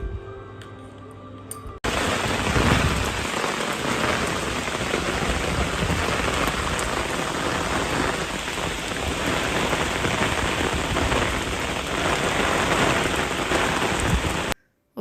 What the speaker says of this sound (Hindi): और इतनी तेज़ बारिश शुरू हो गई थी